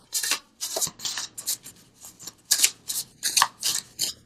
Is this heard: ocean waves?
no